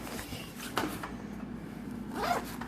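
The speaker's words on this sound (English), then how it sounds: "starting at the top, you have a zippered pouch" A zipper on the hood pouch of an REI Trail 40 backpack being pulled, giving two short, close rasping zips about a second and a half apart against quiet handling noise.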